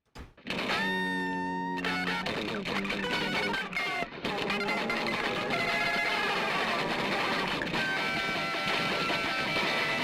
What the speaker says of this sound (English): there's also my favorite little meow meows